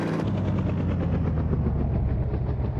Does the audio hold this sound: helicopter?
yes